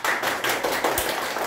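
Schoolchildren in a classroom during a selection vote for a drug-prevention program applaud together, a dense continuous patter of many small hands clapping, loud and close with no speech.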